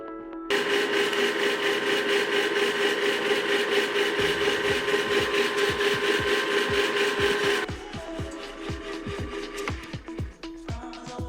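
An ice cream machine churns a chocolate ice cream base, two cups at a time. It gives off a steady, loud mechanical whir with a motor hum, then turns rougher, with rhythmic knocking from the paddle and thickening mix.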